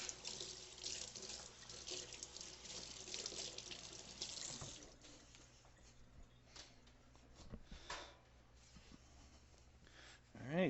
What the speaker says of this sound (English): Gotta wash off the old knife.